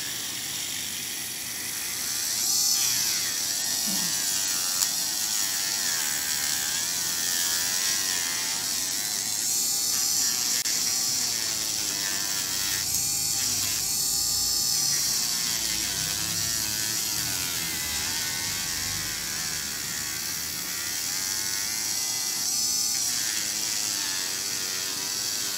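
An electric nail file grinds down a fibreglass nail extension, giving a continuous high whirring buzz at close range with faint shifts in pitch as the bit moves over the nail.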